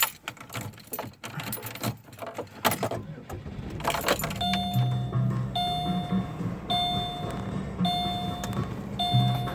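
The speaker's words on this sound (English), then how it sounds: "Let's put the car on in the heater because it's freezing." A car engine idles steadily on a freezing day with the heater running, a low rumble under clicks and rustles, while a faint repeating electronic tone chimes in the background.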